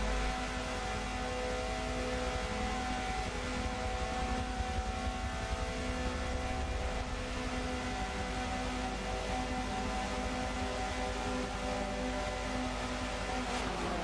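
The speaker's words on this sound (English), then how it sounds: "You now see the revs are climbing." Touring car engines at a race start at Catalunya, a sustained loud droning roar with layered tonal engine notes held steadily throughout, heard at a distance with no talking.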